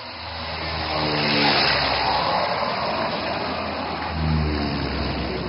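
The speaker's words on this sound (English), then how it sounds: "The pilot is aligning a massive transport aircraft." An Indian Air Force AN-32 transport aircraft lands on a highway at Moran, its engines giving a loud, close, continuous roar that swells in the middle, with a droning tonal hum that fades and returns near the end, no voices.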